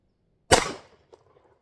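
A revolver fires a capsule full of BBs with a single sharp, loud crack that decays quickly, then a faint click follows shortly after.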